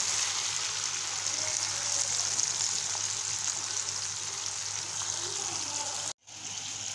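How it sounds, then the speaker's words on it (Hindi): Tomatoes and green chillies fry in a pan for rajma fry, with a steady, close sizzle and crackle like light rain that cuts out briefly near the end and then returns. "फिर उसके बाद इसमें हम टमाटर डाल देंगे और मिर्ची डाल देंगे और इसको अच्छी तरह से गलाने तक पकाएंगे"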